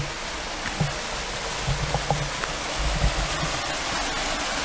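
A small waterfall stream flows steadily at a Turkish waterfall site, a continuous broad rushing wash of water with faint splashes, heard alone without talk.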